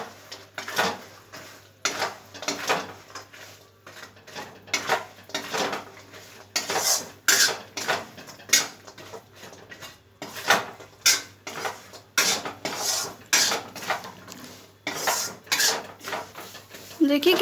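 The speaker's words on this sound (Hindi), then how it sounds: "अब हम उसमें डाल देंगे जो हमने पहले खुरमा बनाया था और अच्छी तरह से मिक्स कर लेंगे।" A spoon scrapes and clanks against a pan in repeated, rhythmic strokes while maida and sooji khurma is mixed into sugar syrup, loud and close, with a voice speaking at times.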